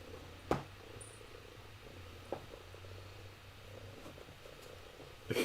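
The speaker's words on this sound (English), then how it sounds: "Can you guys hear the cat purring?" A domestic cat purrs softly nearby as a faint, low, continuous rumble in a quiet room, broken by a few small bumps and knocks.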